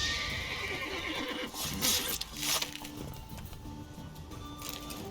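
A frightened horse whinnies in The Witcher 3, a couple of bright neighing bursts rising over a busy backdrop of combat noise and hoofbeats, fairly close and loud.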